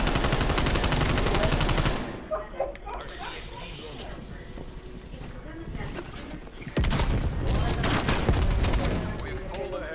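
Rapid gunfire from a Call of Duty-style multiplayer shooter in a wooded map, dense bursts and volleys filling the opening two seconds and returning loudly near the end, with quieter scattered game sounds and talk between.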